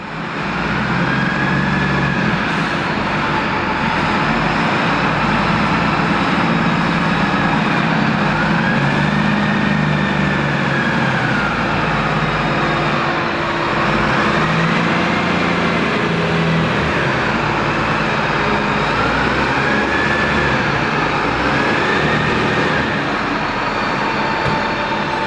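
Dennis Trident and Scania buses maneuver inside a depot maintenance area with inspection pits, a continuous engine drone and rumble with slow rising and falling whine sweeps as one backs out and another pulls in, no voices.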